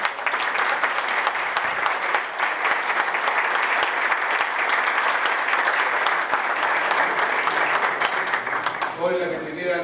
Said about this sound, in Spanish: para quien pide un aplauso.